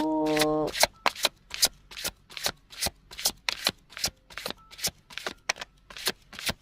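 Tarot cards shuffled in a rapid riffle, then a long steady run of crisp, close card snaps and slides as cards are drawn and laid out one after another, with a brief tonal sound at the very start and no talking.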